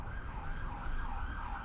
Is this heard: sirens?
yes